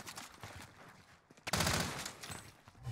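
Call of Duty Warzone (Cold War) gunfire: scattered shots, then a louder burst of rapid fire that tapers into a few more cracks, with no talking.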